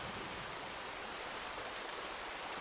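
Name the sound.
water flowing in Resident Evil 2 Remake video game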